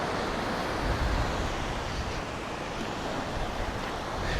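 Ocean waves on rocky Uluwatu beach in Bali, a steady, loud wash of surf with some wind noise and no voices.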